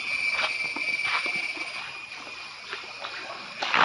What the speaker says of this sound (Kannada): ಈತೆ ಲಾಯ್ಕುಂಡತೆ ತೋಡ್ದ ನೀರು